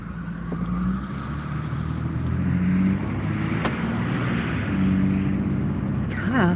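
A car on a drive keeps up a steady engine and road rumble from inside the cabin, with a brief louder whoosh midway and a rising squeal at the end.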